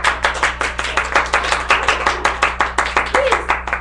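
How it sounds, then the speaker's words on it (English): A small audience at an evening show in Salem claps in a steady, rhythmic beat for a guest, distinct close hand claps repeating evenly, with a steady low hum behind them. "Everybody give a round of applause"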